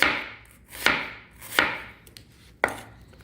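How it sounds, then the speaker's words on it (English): Knife chopping onion on a loud plastic cutting board, four sharp distinct chops with short gaps between them, close and clear with no talk. "I'm using my plastic cutting board today, and it's loud"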